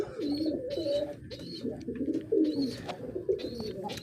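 Soft, low cooing from pigeon chicks repeats in short murmuring phrases nearby, with a few faint higher chirps mixed in.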